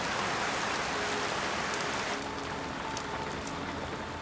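Dense, steady hiss of heavy Amazon jungle downpour pouring onto foliage and ground, constant and enveloping with no breaks, a few brighter droplet splatters standing out near the end.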